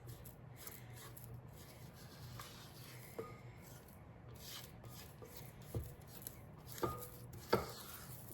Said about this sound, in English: I'm gonna just scrape down the sides.